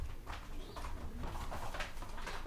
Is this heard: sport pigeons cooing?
yes